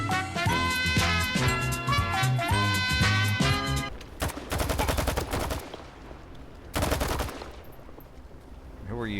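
Gunfire in the shooter S.T.A.L.K.E.R. 2 breaks out after a stretch of tonal background music: a rapid automatic burst, a pause, then another dense volley, loud and close, fading into quieter ambience.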